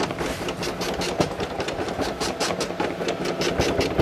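A Brother SE1900 embroidery machine stitches a hat, running with a fast, steady mechanical chatter and rhythmic needle thumps close by, with no talking.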